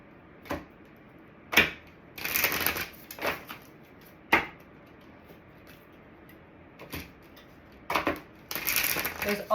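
Close-up riffling and tapping of a numerology advice card deck being shuffled, in irregular bursts of crisp card flutter and sharp taps, with no speech.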